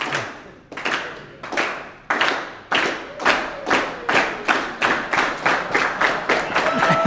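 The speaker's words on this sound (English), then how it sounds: "Slow clap. Slow clap." An audience at a business talk gives a slow clap. Loud, evenly spaced single claps start far apart and gradually speed up into a quicker, steady rhythm.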